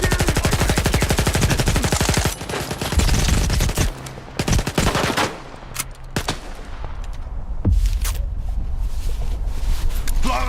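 Loud, close automatic gunfire in S.T.A.L.K.E.R. 2, rapid bursts of rattling shots in the first seconds, then scattered single cracks and short volleys over a rumbling background.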